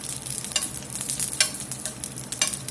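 Vegetables sauté in olive oil over medium heat, a bright continuous sizzle broken by several quick stirring scrapes at irregular intervals, close and without speech.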